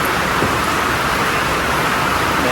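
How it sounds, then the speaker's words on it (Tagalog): Heavy rain suddenly pouring down, a loud, dense, unbroken hiss of downpour filling the whole moment at a constant level, near and enveloping, with no voices. "Biglang lumakas ang ulan."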